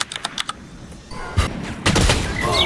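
Gunfire in the Valorant shooter game: a few sharp early shots, then denser, louder bursts of firing that continue to the end, with no talk over them.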